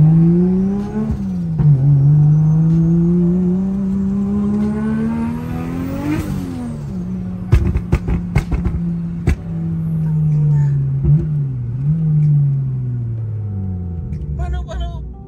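A Nissan Skyline GT-R R34 engine idles with a deep rumble, swells into a rising rev and settles back, then gives sharp crackling pops and stutters. People talk over it.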